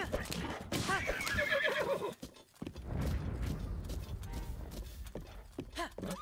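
A horse whinnies loudly in The Legend of Zelda: Breath of the Wild, a long wavering neigh followed by hoof clip-clops and another shorter whinny, with a person speaking briefly.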